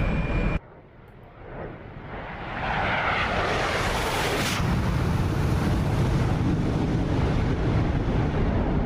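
An F-117 Nighthawk stealth jet in the DCS flight simulator makes a flyby: after a short quiet gap, a rushing roar swells over a few seconds and then holds as a loud, steady broadband wash to the end.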